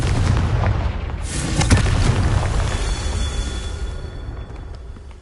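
A Confringo blasting spell explosion in Hogwarts Legacy lands as a dense, roaring burst over a continuous rumbling bed of game noise, peaking sharply and then fading into a sustained hiss and low boom, with no voices.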